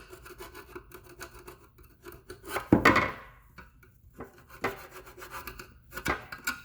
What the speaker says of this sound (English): use your screwdriver again to scrape out most of this